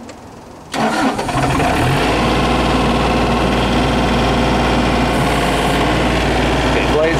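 Two motors, apparently pump motors, start after a brief pause and then run together at once, a loud, steady engine-like drone with an even hum that holds to the end.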